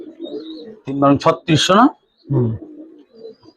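Giribaz and coloured pigeons coo softly in the background at a farm while someone talks close up in short bursts, the low burbling calls filling the pauses between his words.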